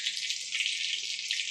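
Whole cumin seeds hit hot oil as a tempering for a vegetarian pointed-gourd curry, producing a bright, even hiss that stays steady and fairly close for a moment.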